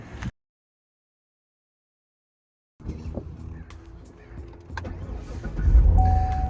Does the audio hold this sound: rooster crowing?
no